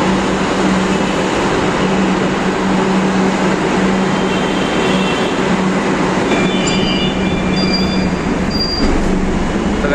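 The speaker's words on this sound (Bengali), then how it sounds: "আর এই হচ্ছে আমাদের মেট্রো কিন্তু চলে এসছে। এই মেট্রো করে যাবো হচ্ছে আমরা নিউ গড়িয়া।" A Kolkata East West Metro train runs from New Garia toward Ruby, producing a loud, steady rumble with a constant low hum and faint squealing tones toward the end, heard close up from the platform or aboard.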